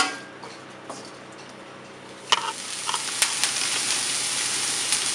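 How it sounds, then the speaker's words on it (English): Chopped onion frying in a pan gives a steady, close sizzle, with stirring clicks and scrapes of the utensil growing busier partway through. "I will fry the chopped onion"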